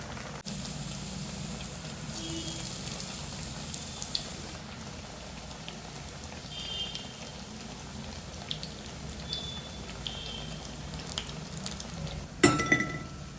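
Black-eyed pea vadas fry in hot oil with a soft, steady sizzling hiss, broken by a few faint clinks and a sharper clatter of utensils near the end.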